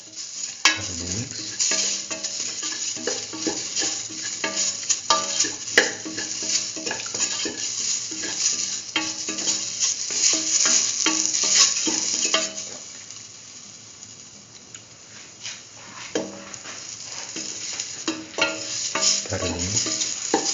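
A lentil rice mixture with mustard and fenugreek leaves is stirred steadily in a frying pan, with continuous scraping and gentle sizzling close by and occasional knocks of the spoon against the pan.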